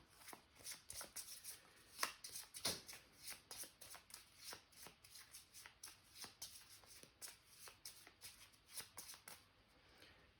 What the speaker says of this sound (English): shuffle that back into the events deck